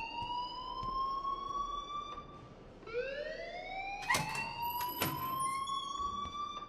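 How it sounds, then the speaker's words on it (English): School alarm ringing inside the video game Life is Strange, a wailing siren-like electronic tone that rises and falls in repeated sweeps, with sharp bangs and bursts breaking in partway through, moderately loud and without speech. "please turn off that alarm since that's your job."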